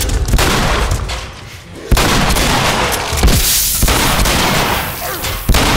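Shotgun blasts in The Last of Us, several loud booming shots spaced a second or two apart, each with a sharp onset and a long rumbling tail, with no talk over them.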